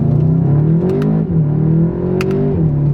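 A 2019 Volkswagen Golf GTI TCR accelerates hard from a launch, its engine rising loudly in pitch through the revs, dipping briefly at a shift, then climbing again, close and alone.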